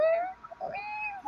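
A human voice imitates a weak, whiny cat meow, a single drawn-out wavering cry followed by a softer second one, close and clear.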